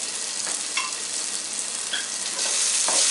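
Minced garlic frying in a pan, a steady broadband sizzle with stirring scrapes and clicks, growing louder toward the end, no talking.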